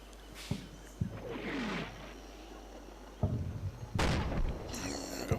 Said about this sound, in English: We've got mortars falling off map.